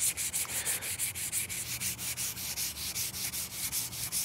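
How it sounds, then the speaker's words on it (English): A 3D-printed sword is wet sanded by hand with 400 grit sandpaper on a block, making a close, rhythmic rasping scrub of quick regular back-and-forth strokes throughout. "I think I'm gonna go over this whole thing with 400 grit and wet sanding just to really, really smooth it up"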